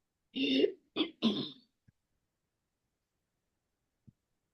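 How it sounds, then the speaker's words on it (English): A short, close throat clearing in a few rough bursts, followed by silence and a couple of faint clicks. "I gotta clear my throat anyways"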